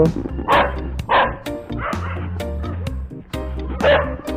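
A dog barks in short bursts, several sharp yips spaced irregularly, close by, over a low background hum.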